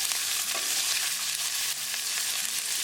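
Garlic and ginger sizzle in a hot pan as they are stirred, a loud, continuous hiss with faint scraping strokes from the stirring, no talking.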